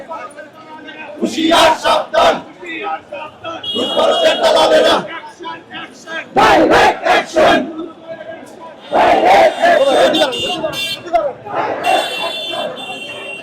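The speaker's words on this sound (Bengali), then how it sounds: "তারা সেখানে স্লোগান দিচ্ছেন যে হাই কমিশনে হামলা কেন সেটির জবাব দেওয়ার জন্য" BNP protesters at a street rally chant slogans in loud, rhythmic bursts from a crowd, with call-and-response surges separated by short pauses.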